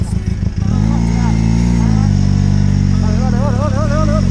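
A BMW F650 Funduro motorcycle idles and revs on an off-road route, a loud, steady single-cylinder engine drone with wavering pitch swells, heard close by as people talk over it.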